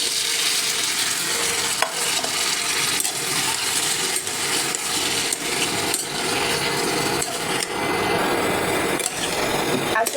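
Washed mixed vegetables frying in a pan, a loud continuous sizzle and crackle with periodic scraping stirs and occasional metallic clinks, steady and close.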